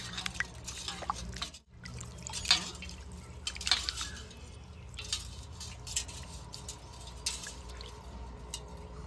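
An imitation necklace is washed by hand in a bowl of water, giving soft close drips, trickles and small wet squishes in an irregular rhythm, with no talking.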